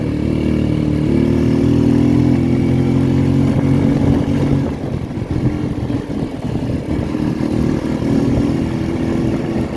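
A motorcycle engine runs loud and close, rising and falling as it revs, with a rough mechanical clatter throughout and no talking.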